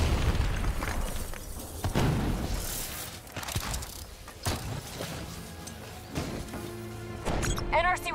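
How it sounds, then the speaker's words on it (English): Rogue robots detonating in the first-person shooter Call of Duty: Black Ops III, several heavy booms and crashes mixed with mechanical noise and scattered bursts, loud and close, ending with whirring electronic effects. "They're about to detonate!"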